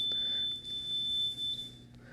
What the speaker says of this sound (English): That's an indication that this valve is being tampered with and that is now ringing out our fire alarm panel.